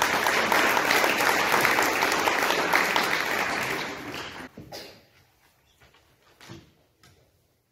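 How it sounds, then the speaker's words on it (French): Audience applause at a poetry contest awards ceremony, a dense, loud round of clapping for about four seconds that tapers off and fades, followed by scattered faint knocks and a brief thump. "Vous pouvez les applaudir."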